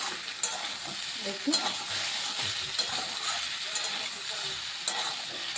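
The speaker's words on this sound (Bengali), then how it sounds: "এখন একটু আমি ভাজা ভাজা করে নিচ্ছি সবজিটাকে।" Vegetables with papaya frying in a pan with a little oil, no spices: a soft continuous sizzle with occasional stirring scrapes and clinks, and a brief word spoken over it.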